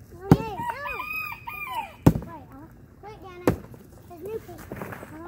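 A rooster crows outdoors near an event where a piñata is hit and burned, loud rising-and-falling calls mixed with overlapping voices and several sharp loud cracks.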